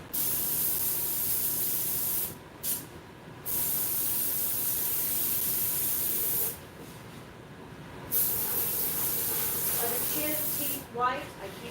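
Airbrush spraying latex mask paint, a steady close hiss running in long bursts broken by brief pauses, with faint voices under it near the end.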